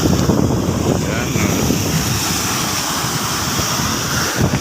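Steady broadband surf and typhoon wind noise fill the whole stretch, a continuous rushing wash of sea waves close by on an eroding shore, with no clear breaks.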